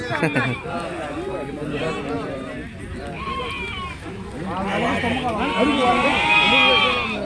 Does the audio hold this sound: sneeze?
no